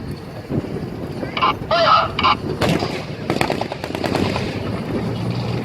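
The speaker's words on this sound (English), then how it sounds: "Both Sherman and Panther fire." Sherman and Panther tank guns firing at a tank show, with booming reports and rattling bursts amid honking tones and crowd noise.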